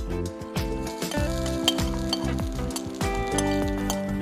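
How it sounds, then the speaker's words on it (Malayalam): Grated coconut roasts in coconut oil in a hot pan, a soft sizzle under repeated scraping strokes of a metal spatula with occasional clinks against the vessel, close and rhythmic. "നമുക്ക് ഇച്ചിരി വെളിച്ചെണ്ണ ഒഴിച്ചു കൊടുക്കാം തേങ്ങ ഇട്ട് കൊടുക്കാമേ വറുത്തെടുക്കാൻ"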